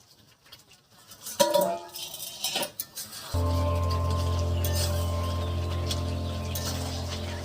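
A metal lid comes off a pot of goat meat cooking in a village kitchen, with a few clanks and rattles, then a loud, steady bubbling simmer fills the rest. Birds chirp and coo faintly in the background.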